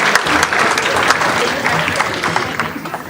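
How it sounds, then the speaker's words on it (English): A crowd at a Rotary club meeting applauds warmly, steady clapping sustained throughout, close and lively, tapering slightly at the end. "One more round of applause for Angela and Jeff Bartell"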